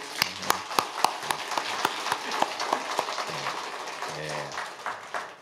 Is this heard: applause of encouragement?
yes